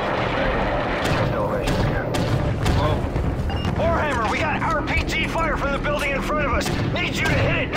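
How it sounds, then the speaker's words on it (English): Small arms and RPG fire in the video game Call of Duty Modern Warfare 3, a dense, continuous battle din of booms and gunfire with shouted voice lines over it throughout. "we're seeing small arms, RPG fire from the corner building to the northwest"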